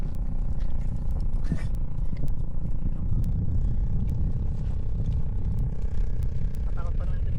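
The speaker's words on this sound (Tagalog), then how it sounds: "Lakas naman ng motor na yun." Loud motorcycle engine running continuously nearby outdoors, a steady low rumble lasting throughout, with people talking over it.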